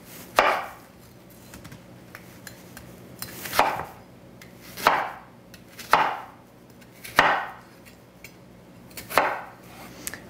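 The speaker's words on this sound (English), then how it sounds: "And so then we'll finish dicing this second onion." A knife dices an onion on a cutting board, giving six sharp, evenly spaced chops about every second and a half, close and clear with no talking.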